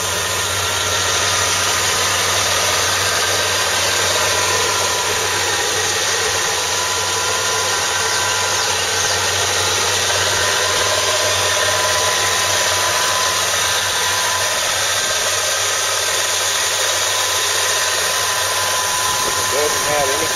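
A 1986 Chevrolet Monte Carlo SS V8 idles steadily with a low, smooth rumble and no ticking or knocking, a continuous even drone heard up close for the whole stretch.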